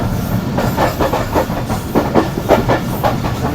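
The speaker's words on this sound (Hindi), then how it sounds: "इस वक्त हमारी ट्रेन सुबह सिंध में चल रही है" Karakoram Express passenger train running through Sindh, heard from on board: a loud steady rumble with rhythmic clickety-clack wheel beats and hiss, no talking.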